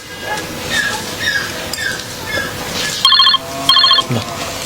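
A telephone rings in two short, bright electronic bursts about half a second apart, loud and close, following a stretch of quieter background noise.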